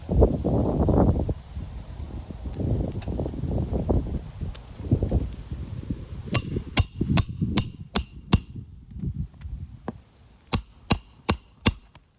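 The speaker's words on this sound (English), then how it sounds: "Notice how he strikes the hammer." A hammer strikes nails during a repair, a series of sharp, rapid metallic taps in quick clusters, close and distinct, following a stretch of low rumbling handling noise.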